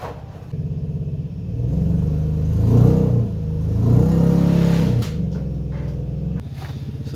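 An Infiniti G35 car engine runs steadily close by as the car is backed in, a low rumbling idle that swells with a couple of gentle throttle rises and then settles back.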